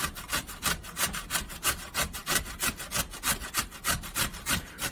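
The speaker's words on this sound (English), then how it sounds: "I just use a regular cheese grater, basically as if I was prepping it for hash browns" A potato is grated on a regular cheese grater for hash-brown-style shreds, a steady back-and-forth rasping in even, rapid strokes, close and alone.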